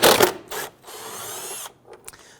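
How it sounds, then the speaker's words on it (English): An impact wrench on two 10mm bolts holding an expansion tank on a 2008-2013 Infiniti G37 3.7L V6 gives two short buzzing bursts, the first strong, the second running over a second and easing off, with small clicks after. "We're going to use our impact unit."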